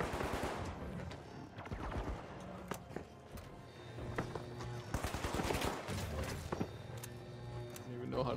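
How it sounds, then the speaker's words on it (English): Rapid bursts of gunfire from a match in the shooter game The Finals crackle in quick volleys, mixed with impacts and thuds at moderate distance, while game noise and voices carry underneath. "They're shooting you, but I can't even see them?"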